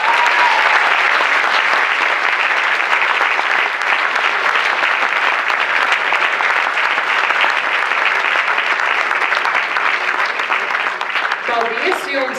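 Loud, sustained audience applause fills a children's and youth dance studio's season-closing concert, steady dense clapping throughout with a faint voice emerging near the end.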